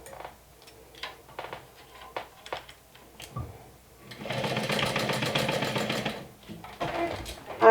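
Sewing machine stitching a modified Sew Sweetness Hackney Nintendo Switch case, steady whirring run of about two seconds mid-clip after scattered taps and handling noises, fairly close and loud.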